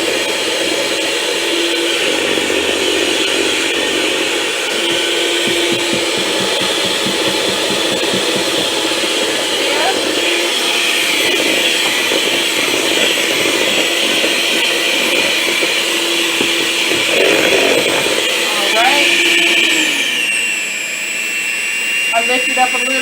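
An electric hand mixer beats birthday party batter in a bowl, giving a steady, loud whirring drone throughout with small shifts in pitch as the beaters move, and a brief change near the end as they lift.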